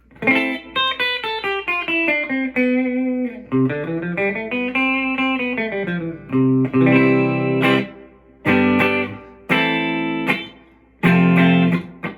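Electric guitar played through an amp with reverb, a run of quick single notes and bends, then several sustained chords ringing out with a spacious tail.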